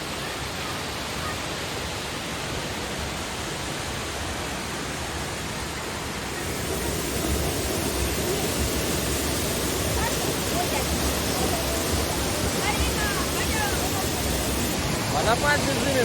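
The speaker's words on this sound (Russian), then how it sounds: "Водопад Безжименко." The Bezhimenko waterfall pours through a narrow gorge in a continuous broadband roar that grows slightly louder partway through, with no voices over it.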